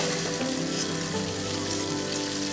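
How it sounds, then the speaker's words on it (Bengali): Crabs fry in hot oil in a pan, sending up a steady, loud, dense sizzle that runs unbroken from start to finish with no voice over it. "কাঁকড়াগুলো লাল করে ভাজা হয়ে গেলে কাঁকড়াগুলো আলাদা একটা বাটিতে তুলে নেব"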